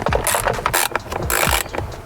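A T30 Torx screw being turned out of a Ford Falcon BA/BF Ute steering wheel, with close, rapid ratcheting clicks in short bursts over a couple of seconds.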